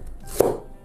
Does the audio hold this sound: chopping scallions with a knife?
yes